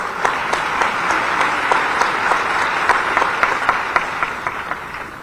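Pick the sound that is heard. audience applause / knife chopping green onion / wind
audience applause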